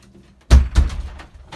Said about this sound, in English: then you come through your first front door here.